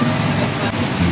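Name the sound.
heavy rain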